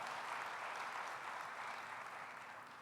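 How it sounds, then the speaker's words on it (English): An audience claps enthusiastically at a graduation ceremony held at the Library of Alexandria, a dense steady wash of applause that fades slightly toward the end. "Let's give a big round of applause for the Library of Alexandria leadership"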